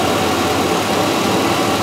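Old Chevrolet truck engine idling steadily, a continuous broadband rumble with a slight vibration, close and loud with no talk.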